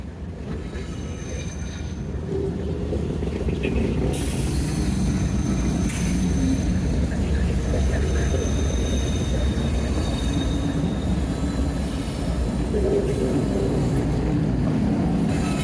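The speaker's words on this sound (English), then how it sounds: "Pretty cool, 2 trains." Two trains pass close by outdoors, a steady loud rumble of railcars with clacking wheels and occasional high squeals, continuous for the whole stretch.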